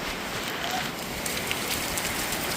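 Heavy rain pours down in Ahmednagar in a dense, steady patter, with scattered louder drops striking nearby surfaces.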